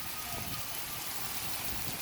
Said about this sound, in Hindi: बड़ी ज़बरदस्त किस्म की जो है वो बारिश हो रही है